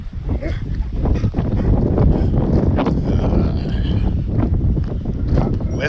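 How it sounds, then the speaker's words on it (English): Strong West Texas wind buffeting the microphone outdoors while fence is mended, a loud continuous low rumble with gusty surges throughout. "West Texas wind."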